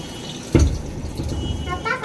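Water splashes while utensils are washed, a sudden slosh followed by running, trickling water, with voices talking over it.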